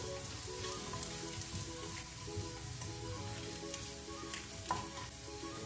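Chopped garlic sizzles and crackles steadily in hot oil in a pan, a soft continuous frying hiss with occasional stirring scrapes, faint and close with no voices.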